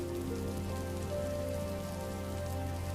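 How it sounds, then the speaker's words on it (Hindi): Steady rain pattering on a surface, dense and continuous, with a low hum underneath and no voices. "ये बारिश तो बढ़ती ही जा रही है।"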